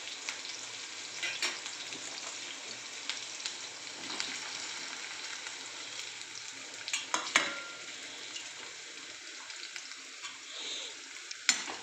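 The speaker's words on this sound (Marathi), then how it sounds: "एक 2-4 मिनटं त्याला चांगलं हलवून घेऊ" Sabudana khichdi with boiled potatoes being stirred in a hot pan, a steady soft sizzle with scraping spoon movements and occasional louder clinks, fairly quiet throughout with no talking.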